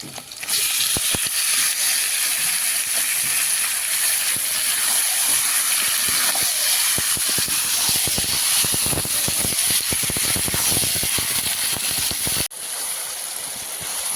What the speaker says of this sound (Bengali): পেঁয়াজটা লাল লাল করে ভাজা হয়ে গেছে দিয়ে দিচ্ছি মাংস